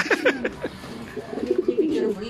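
A racing pigeon cooing softly after landing from a derby race, with a few short low coos close by while people talk quietly nearby.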